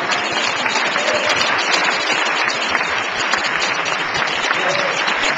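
Sustained applause from a large audience, steady dense clapping throughout with a faint voice or two mixed in the crowd noise.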